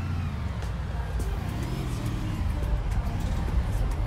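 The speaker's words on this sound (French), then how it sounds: "Ah, c'est un karting. Bon, au moins elle freine." A go-kart in the video game Big Ambition drives and brakes, a steady motor hum with some rising and falling pitch and a brief squeal near the end.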